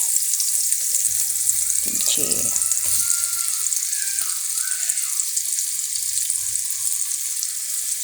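Kimchi goes into a pan of fried rice, which sizzles loudly and constantly up close while a spatula scrapes and stirs in short bursts.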